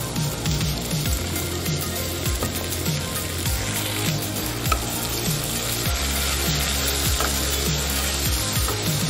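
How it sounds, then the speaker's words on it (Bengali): Pointed gourd sizzles and fries steadily in a pan with poppy seed paste and green chilli paste, a continuous close hiss with occasional light scraping and stirring clicks throughout. "দিয়ে দিচ্ছি পোস্ত বাটা, কাঁচা লঙ্কা বাটা।"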